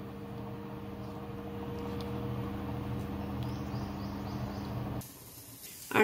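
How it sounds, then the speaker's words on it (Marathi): Kashmiri-style rajma masala, a kidney bean curry, boils in a pot, giving a faint, steady hiss and simmer under a low hum before the sound briefly drops away near the end. "आता 8 मिनिट आपल्याला याला उकळून घ्यायचं आहे चांगलं."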